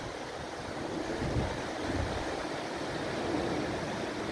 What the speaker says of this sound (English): Portmarnock Beach, New Year's Day